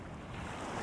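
Ocean surf washing onto a Scottish beach, a steady broadband roar of breaking waves mixed with wind noise, continuous and fairly loud with no voices.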